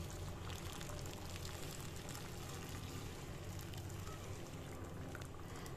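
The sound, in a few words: pouring hot water into the pan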